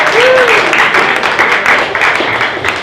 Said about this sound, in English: let's give a round of applause to our amazing broker